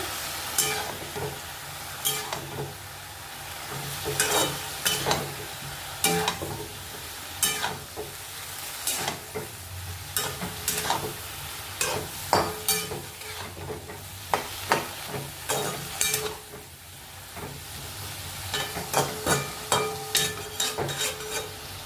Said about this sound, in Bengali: নারকেলগুলো নাড়াচাড়া করে দেবো